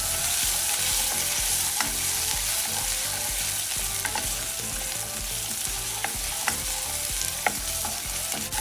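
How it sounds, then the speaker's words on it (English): A yellow onion sizzles and fries steadily in a pan, with occasional stirring clicks and scrapes over a constant hiss, fairly close and with no voices. "you want to saute this until it's translucent"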